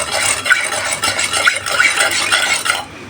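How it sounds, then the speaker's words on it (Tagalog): Papaya atchara being stirred with sugar, making a loud, continuous wet scraping and clinking of a spoon against the bowl for about three seconds before stopping abruptly. "Yan, halu-haluin"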